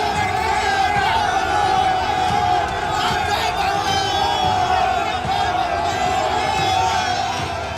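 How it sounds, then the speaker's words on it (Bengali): Crowd of protesters shouting 'thief' and 'go back' slogans at a politician's convoy, a dense, continuous roar of many voices chanting together outdoors, loud and steady throughout. "তারপরে দেওয়া হয় চোর ও গো ব্যাক স্লোগান"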